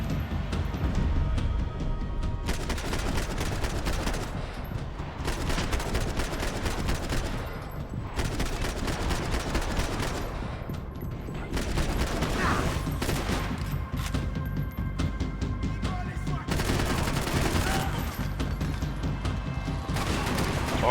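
Rapid full-auto gunfire from blind firing in Max Payne 3, dense bursts cracking almost nonstop with brief pauses between volleys, loud and close.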